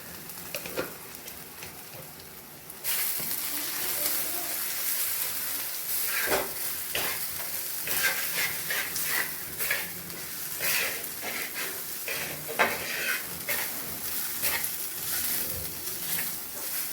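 Onions and poppy seeds fry in a pan while being stirred: a steady close sizzle with repeated scraping strokes of the spoon, and no talking.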